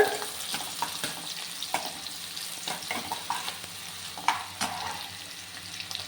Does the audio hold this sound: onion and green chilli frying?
yes